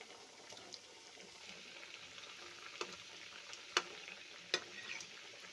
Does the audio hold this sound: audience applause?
no